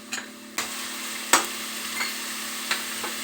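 Garlic paste frying in a pan for jackfruit kebab, a soft steady sizzle close by, broken by a few sharp clicks and scrapes of a spoon stirring.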